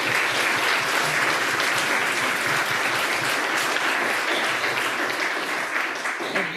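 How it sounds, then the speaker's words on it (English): An audience at a health lecture on ageing applauds the panel, a sustained, even wash of many hands clapping throughout with no pause. "can we maybe applause for the panel?"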